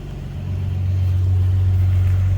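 A Nissan Z sports car's engine drones steadily at a low pitch from inside while setting off on a drive, the rumble swelling slightly in the first moment and then holding loud and constant, with no talking.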